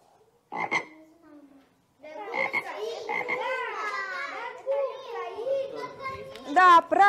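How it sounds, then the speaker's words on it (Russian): A short frog croak sounds near the start, followed by children's high, excited voices chattering and calling out together. "Да, правильно, это лягушка."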